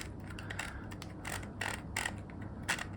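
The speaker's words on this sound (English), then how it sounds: "Dial turns nicely, and this actually moves the head up and down" Length-adjustment dial turning on a Douyear beard trimmer, a close series of small clicking and ratcheting ticks that come in several separate bursts.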